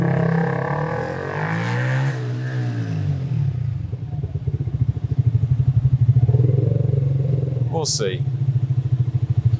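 Motorcycle fitted with a new cheap copy aftermarket exhaust idles and revs, a throbbing exhaust pulse that builds and steadies under a voice, with a brief sharp rattle near the end.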